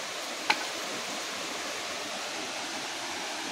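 A waterfall rushes steadily beside an outdoor cooking spot in the open air, a broad continuous roar with one brief click near the start and no talking.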